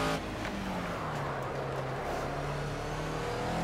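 Race car engine in the Project CARS racing game, droning steadily with pitch sweeps as it shifts down through the gears, a loud continuous whine heard alone.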